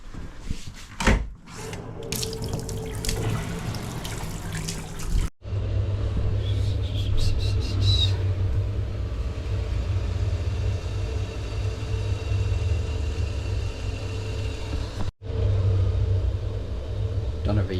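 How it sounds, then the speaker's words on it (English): A 2009 gas boiler, about 16 years old, with its temperature set near 55, modulating down: a steady low rumbling hum runs throughout, broken by two brief dropouts. Voices can be heard near the start. "the boiler is modulating down"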